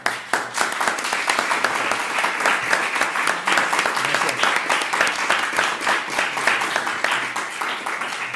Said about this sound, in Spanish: por medio de un aplauso, agradecerles.